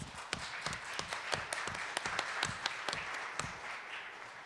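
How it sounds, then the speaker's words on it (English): A small audience claps steadily, a dense patter of hands with a few sharper claps standing out, moderately distant. "Big round of applause for all of our presenters."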